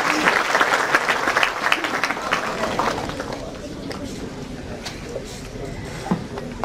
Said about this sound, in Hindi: भरपूर तालियों के साथ हमारी महबूब वज़ीर